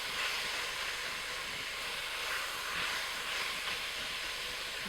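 Ground pork sizzling steadily in a hot pan as a spatula breaks it up, a continuous bright hiss at even loudness throughout with no talk.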